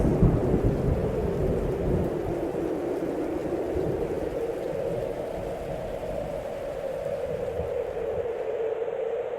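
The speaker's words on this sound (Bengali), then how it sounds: "চারিদিকে ঘন মেঘ ছেয়ে গেছে ঝড় উঠেছে" Steady heavy rain pours down during a summer Kalbaishakhi storm, with deep rumbling thunder rolling continuously beneath it.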